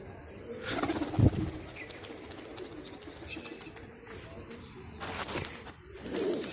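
Racing pigeons coo softly at the moment of release, and short bursts of wing flapping break out twice as the birds take off. The sound is faint, with a quiet outdoor background.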